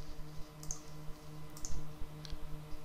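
Quick, light clicks and taps from a computer mouse and keyboard while entering a quiz question, faint and close, in scattered bursts over a soft background hum.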